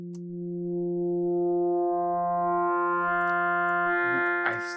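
A Drambo synth oscillator drones steadily on a low pitch with a stack of bright harmonics, its tone thickening and growing buzzier as FM feedback is raised, with a few brief clicks near the end.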